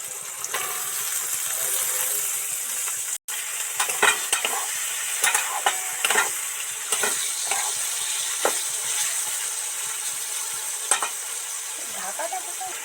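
Carrots and potatoes stir-frying in a wok for chirer polao, a steady sizzle broken by repeated scraping and tossing strokes of a spatula, close and fairly loud with no talk.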